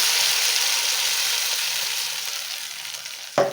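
Spice paste hits hot oil with garlic and ginger already frying, giving a loud, steady sizzle that fades slightly, then a brief stirring scrape near the end.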